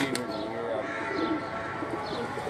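Teddy pigeons coo softly in a loft, low murmuring calls repeating close by over a steady background hum, with a faint voice now and then.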